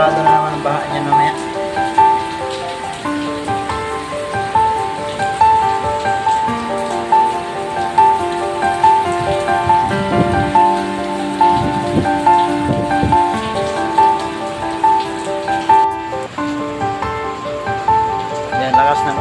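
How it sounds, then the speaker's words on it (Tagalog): Heavy typhoon rain pours steadily in Metro Manila at night, a dense continuous wash of drops drumming on surfaces close by, with faint background tones running underneath throughout. "grabing lakas ng ulan. Ayan, nandito na yata yung bagyo sa Metro Manila."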